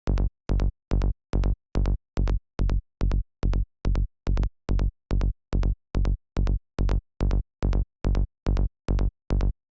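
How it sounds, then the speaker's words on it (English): A psytrance bassline pulses in a steady, fast rhythm of short, punchy notes, each note's brightness shifting as a 12 dB filter is swept. The loud synth bass plays alone with no voices. "If we listen to this bassline as it's playing and I change the filter,"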